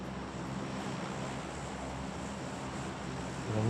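In the video game PUBG, an airplane engine drones in a steady, loud, unbroken rumble that swells slightly at the end. No voices are heard over it.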